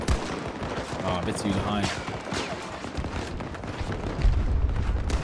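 Rifle fire in the shooter game Battlefield 2042, dense volleys of gunshots and booms running throughout, with a louder low burst near the end, while someone talks over the shooting.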